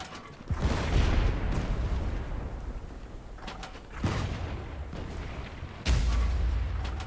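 Heavy ship mortar and cannon fire in the pirate naval battle game Blazing Sails: three loud, booming blasts, each with a long rumbling tail, amid continuous battle noise.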